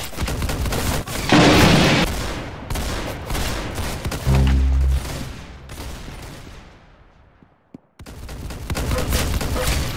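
Dense, loud gunfire from Roblox Arsenal gameplay, with bursts of rapid shots and booms running through most of the span, then a brief near-silent gap before the firing resumes.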